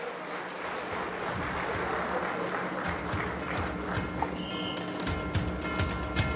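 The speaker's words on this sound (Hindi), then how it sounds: "आमचे माजी खासदार पद्मश्री डॉक्टर विकास महात्मे साहेबांचं जोरदार तालियांचं स्वागत करू आपण मंचला" An audience at a cooperative conference applauds to welcome Padma Shri Dr. Vikas Mahatme, a dense, sustained wash of crowd clapping that carries on steadily with a few sharper claps near the end.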